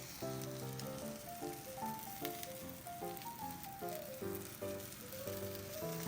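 Homemade pizza topped with parsley sizzles in a covered frying pan, a continuous soft crackling hiss heard close and steady beneath a gentle melodic music track.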